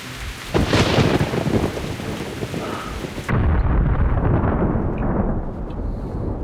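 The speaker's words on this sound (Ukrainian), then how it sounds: "Я сподіваюся, що це просто грім." Loud rumbling thunder with steady rain in the video game Metro: Last Light, one heavy roll rising early, then a second sharp boom cutting in midway over the continuing downpour.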